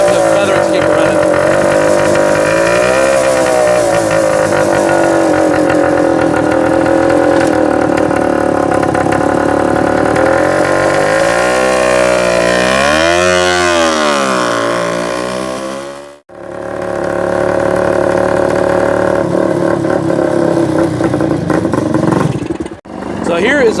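A 1960s Hodaka Ace 100 motorcycle engine runs loudly and close, its buzzing note repeatedly rising and falling as the throttle is feathered to keep it alive, with two brief dropouts near the end.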